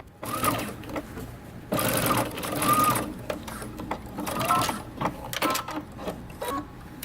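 Home sewing machine stitching around a dress sleeve, with several bursts of rapid mechanical whirring and clatter separated by short pauses, close and fairly quiet.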